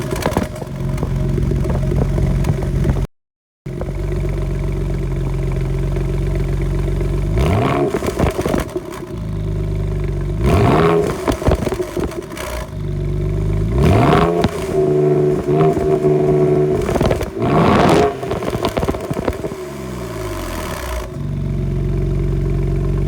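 A BMW engine with its stock exhaust modified by a flap delete idles steadily, then revs sharply five times in quick bursts that fall back to idle, loud and close with no talking.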